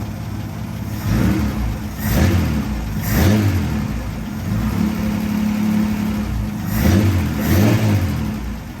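A hot rod engine freshly tuned up runs close and loud, rumbling at idle and swelling into several throaty revs about once a second, then settling back, with no talk.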